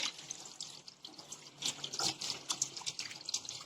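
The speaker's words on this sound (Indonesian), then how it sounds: "Lalu bilas sampai ke siku." Tap water runs steadily into a sink with splashing and dripping as hands are rinsed up to the elbows, fairly faint and close, with no talking.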